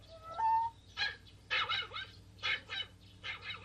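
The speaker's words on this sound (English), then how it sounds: "Shame on you, naughty dog." A cartoon dog whimpers and whines in a series of short, high, nasal yelps after a brief rising whine, fairly quiet, over a soft background hum.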